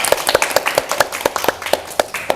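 Applause for a presenter at a school event, a few hands clapping in a steady, slightly uneven rhythm of sharp close claps, heard alone without talk.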